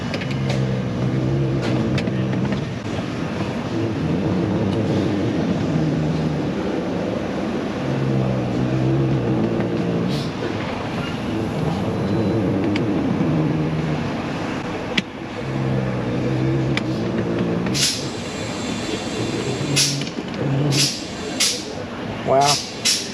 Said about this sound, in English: Why do I hear the seat move when I pull on the motor?